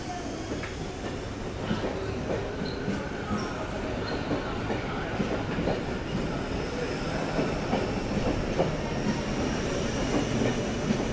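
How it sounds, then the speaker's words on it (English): Sydney Trains S set departing a platform at Sydney's Central Station, with a steady rumble of wheels and clickety-clack over the rails that builds gradually, and a voice talking faintly through the noise. "Departing platform 19, we have S64 leading an all-station service to Homebush."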